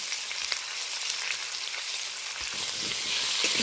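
Potatoes fry with salt and turmeric, a steady, fairly loud hiss of hot oil close by, growing a little stronger toward the end with a few faint stirring knocks.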